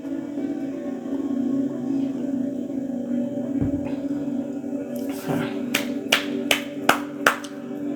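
Hands clap in a quick series of about six sharp, close claps near the end, following a stretch of low steady room hum.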